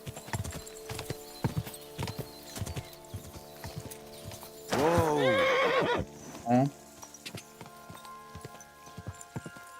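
Horse hooves clip-clop in a steady walking rhythm in the KCD2 medieval game, broken by a loud, close neigh and a shorter whinny soon after, with no talking over it.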